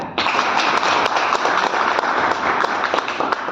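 A church congregation claps together in dense, loud applause that runs steadily throughout, close and unbroken.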